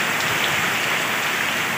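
Light, steady rain falling over farm fields, an even, dense hiss of fine drops without pause and no voices.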